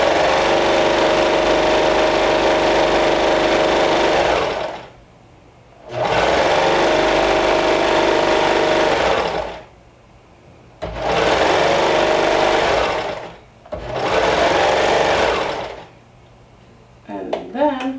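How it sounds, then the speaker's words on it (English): A sewing machine stitches around a garment pocket, running in four steady bursts with short pauses between them, loud and close with no talking. "And let's stitch first around the pocket."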